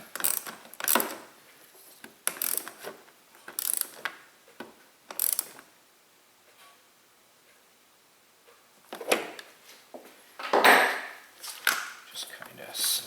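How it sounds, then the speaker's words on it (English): A 10mm ratchet tightens the battery terminal on a Volvo S80 3.2L, making bursts of close, crisp clicking in quick runs with short pauses between strokes. "Get our 10mm and tighten it down."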